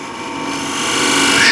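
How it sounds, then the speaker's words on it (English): A hand scraper shears across a mahogany plate in one continuous, close, raspy stroke that builds slightly in loudness as it goes. "I can shear scrape right into a corner because there is some relief here of a scraper"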